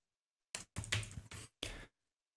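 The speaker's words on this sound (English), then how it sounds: "as soon as you start typing something, like we'll add a text block and we'll set the text to hello world" Computer keyboard typing while entering text in a WPF app designer, heard as a few short bursts of rapid key clicks separated by pauses, close and fairly quiet.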